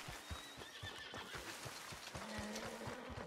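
A horse in a video game whinnies loudly with rising and falling neighs, while its hooves clip-clop in a steady rhythm beneath, close and clear with no talking.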